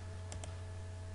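Two quick, light keystrokes on a computer keyboard while entering an AutoCAD command, close and faint over a constant low electrical hum.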